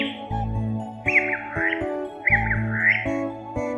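Short bursts of bird chirps and tweets sound over a background of music, a few quick calls repeating across a few seconds with no voices.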